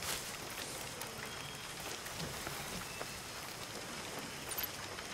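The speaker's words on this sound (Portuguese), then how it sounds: "Mais chuva. Perfeito." Steady rain patters on surfaces in the video game Far Cry 6, a dense, even hiss with scattered drops, moderately loud and with no talk over it.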